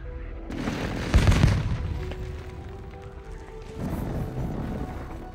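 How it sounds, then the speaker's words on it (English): Airstrike explosions in the video game Warzone 2: a heavy booming blast swells near the start with rumbling impacts, fades into a lingering drone, then a second muffled explosion rolls in toward the end. "Just gonna airstrike to distract him."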